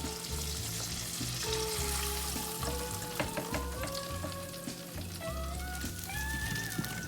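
Food sizzles steadily in hot frying grease, a continuous crackle with scattered pops and faint clinks, quiet and even throughout.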